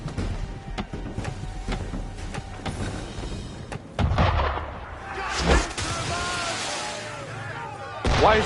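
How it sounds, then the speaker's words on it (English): Blaster gunfire in the Star Wars Outlaws video game, a rapid series of sharp shots and bursts that crack out over a rumbling backdrop, with a louder blast partway through and more fire near the end. "Why is he shooting at us?"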